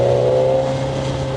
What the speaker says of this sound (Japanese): 4速でね、3800回転ぐらい。 加速もするし、こんな感じです。